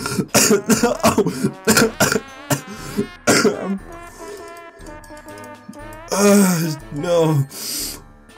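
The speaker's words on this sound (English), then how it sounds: "I'm sorry if my cough is grossing you out in any way, shape, or form" Repeated harsh coughing and throat clearing from a player in the middle of a Trombone Champ game, close and loud, with bursts of strained talking and groans in between.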